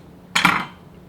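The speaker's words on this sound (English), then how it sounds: "What we're going to do is just cut the onion in half." A knife slices an onion in half with one quick, crisp chop against a cutting board, a short close crunch that dies away in under half a second with no talk.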